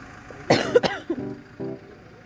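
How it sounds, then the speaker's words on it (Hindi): A woman gives a few short coughs and a throat clear outdoors in snowy Murree, close to the microphone, the first two coughs sharp and loud, then two softer ones. "साथ में खांसी भी हो रही है"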